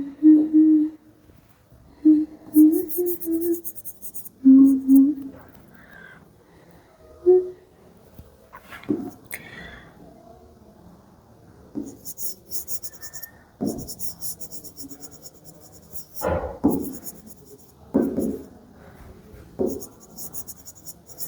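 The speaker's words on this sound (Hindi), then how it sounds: "चलो क्लोन का एग्जाम्पल मतलब डेफिनेशन लिख देते हैं।" Pen writing a definition by hand on paper during a class science lesson, scratchy strokes in short bursts with pauses, close and clear, with brief faint voice sounds in between.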